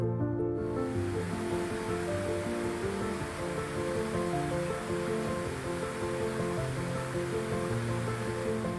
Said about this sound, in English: The tremendous force of water descending over the sheer rock face creates a mist-covered oasis